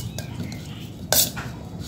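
Veg momo filling with pepper being mixed in a bowl, soft stirring scrapes with one sharp clink of a utensil against the bowl, close and quiet.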